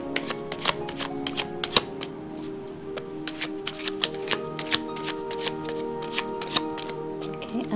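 Tarot cards being shuffled by hand, a run of quick crisp riffles and taps in an irregular rhythm, close and fairly quiet, with a person speaking now and then.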